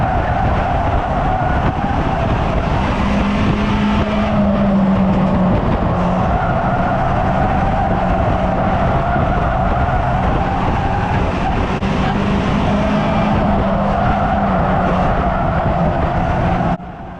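Race cars battle on the oval at Cowdenbeath Racewall, a steady loud roar of several engines with rising and falling pitch as they pass close by, continuous throughout with no talk.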